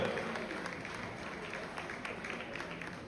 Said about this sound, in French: Est-ce qu'on peut encore applaudir très fortement,